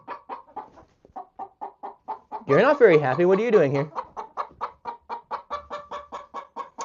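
A hen in a backyard flock clucks in a steady run of short, near calls, rising to a loud squawking burst midway before settling back into rhythmic clucks, with someone talking over parts of it.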